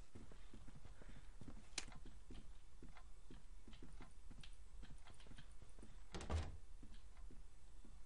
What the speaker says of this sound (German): Ich höre ihre Schritte.